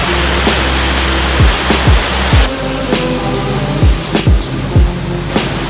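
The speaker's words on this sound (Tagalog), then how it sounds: "Ayan na nga ang Niagra Falls of the Philippines." Tinuy-an Falls, a wide multi-tiered waterfall in the Philippines, roars as a loud, constant broadband rush, with some brief low thumps over it.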